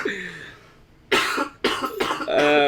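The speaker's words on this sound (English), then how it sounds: "We of course are still suffering from some coughs and illnesses." A person coughs several times in quick harsh bursts after a brief low vocal sound, close and fairly loud.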